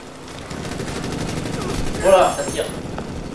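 Rapid bursts of automatic gunfire ring out in the multiplayer shooter Ghost Recon Future Soldier, sustained crackling shots with a louder burst near the end, all under a busy background of game noise.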